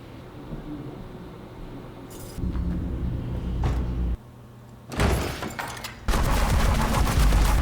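Gunshots from a soldier in a movie ring out in loud, abrupt blasts over a tense soundtrack, with sudden bursts and sharp cuts between louder and quieter passages.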